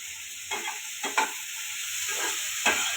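Spiced masala for a pea and potato curry fries in a pan with a steady hiss, broken by a few short scraping stirs of a spoon, close by and moderately loud.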